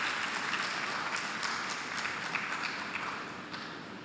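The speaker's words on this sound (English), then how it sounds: "Would you please give Ms. Bamji a round of applause?" Round of applause from an audience at a primary school graduation ceremony, a soft, distant, even wash of many hands clapping that continues throughout.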